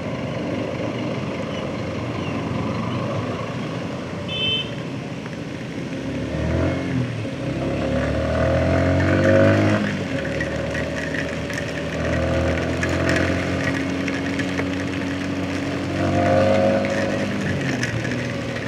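A car engine hums steadily while driving, a continuous loud drone with slowly shifting pitch as the vehicle moves along, no voices over it.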